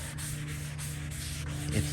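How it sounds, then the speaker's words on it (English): Rhythmic 120-grit sanding strokes rasp back and forth over the rear fender of a 1930 Ford Model A Fordor at a steady pace, close and continuous, with a low hum underneath. "then you sand with the 120"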